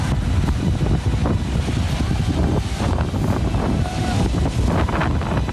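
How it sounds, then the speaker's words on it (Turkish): Loud, blustery storm wind buffets the microphone while rough sea water churns and crashes against boats, with a narrator's voice partly audible under the roar. "Dalgaların dövdüğü tekneler kıyıya sürüklendi."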